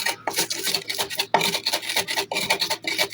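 Chili and salt ground together on a traditional Rangpur stone grinder (pisni or batan), giving rough, rhythmic rasping strokes of stone on stone, close and loud, repeating steadily with no talking.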